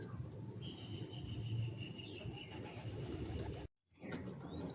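Madrasi high flying pigeons cooing at a loft, a continuous low throaty murmur of several birds nearby, with faint higher chirps and insect buzz in the background and a brief cut near the end.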